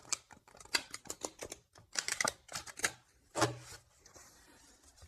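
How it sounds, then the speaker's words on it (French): Tarot cards being shuffled by hand, a quick irregular series of close crisp clicks and riffles with short pauses, no speech. "Je mélange bien les cartes"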